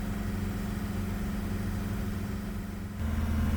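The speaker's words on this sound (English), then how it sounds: "listening to this little engine wind out is not pleasant" A small diesel engine in a Chevy S10 pickup drones steadily at high revs with a rough, buzzy low hum, shifting pitch slightly near the end; no voices.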